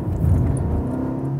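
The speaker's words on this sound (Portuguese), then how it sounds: "quando você sobe o giro, que o carro tá gritando" A 2014 Fiat Punto's engine revs high in a loud, steady, droning roar up close, briefly and without talk.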